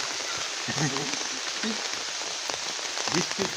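Steady hiss of rain falling on farm fields, with a voice speaking faintly underneath.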